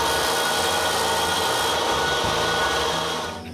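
Tabs being cut off a CNC-carved wooden part taken from a fourth-axis chuck, a loud continuous power-tool whine and rasp running steadily, then easing off at the end, no voices.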